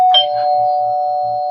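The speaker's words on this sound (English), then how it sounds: "Did you stop moving when you heard that doorbell?" A single doorbell chime rings out clearly with a sustained tone that lingers, heard alone with no talking, loud and close.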